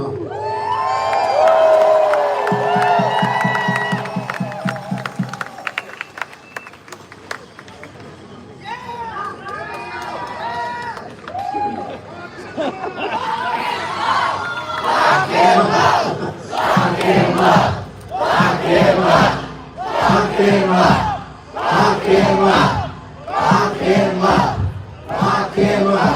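Large crowd at an anti-Trump protest march cheering and shouting in rhythmic bursts, loud and close, with a man addressing the people through a loudspeaker early on.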